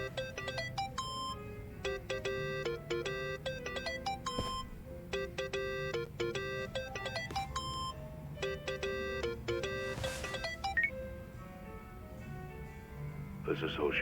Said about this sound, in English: Think that's your phone, man.